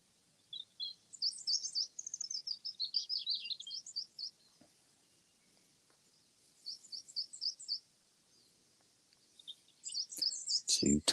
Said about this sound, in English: Silent, you just hear the birds.